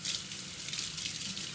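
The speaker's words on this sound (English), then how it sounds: "Oh, I better wash my hands." Tap water runs steadily and fairly loud into a sink while hands are washed, a continuous hissing splash with no talk over it.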